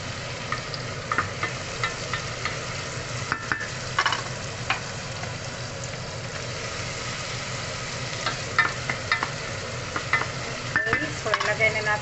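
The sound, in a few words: onions, garlic, beans and carrots frying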